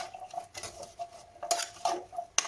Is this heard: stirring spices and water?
yes